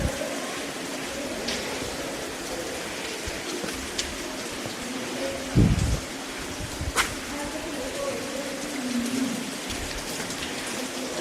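Summer rain pours steadily at Edakkal Caves in Wayanad, a dense, even hiss of falling water with one brief thump midway, while people talk beneath it.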